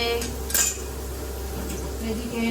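A metal lid set down onto a cooking pot of simmering fish curry, a single brief clink of cookware near the start, followed by quiet kitchen background.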